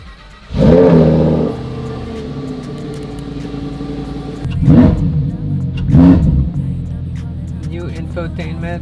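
Lamborghini Tecnica V10 revving through its stock exhaust, one sharp blip and then two more rising revs over a steady idle, loud and close, with people talking around it.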